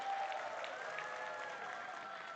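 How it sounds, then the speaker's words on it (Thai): Faint, muffled audience applause at an Atomy sales presentation for HemoHIM, a soft continuous patter of clapping heard at a distance with a thin, band-limited tone. "ทุกท่านคะปรบมือให้กับอะโทมี่เฮโมฮีมหน่อยค่ะ"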